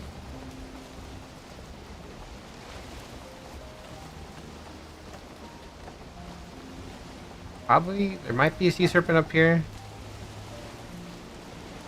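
A rainstorm in a video game, a steady hiss of rain on the water around a boat, soft and continuous, with a voice speaking briefly toward the end.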